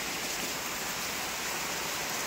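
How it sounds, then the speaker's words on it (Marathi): Heavy rain roars in a dense, constant wash, with water pouring steadily off a terrace slab, loud and unbroken. "खूप जोरात पाऊस झाला आहे बघा, म्हणजे चालूच आहे पाऊस"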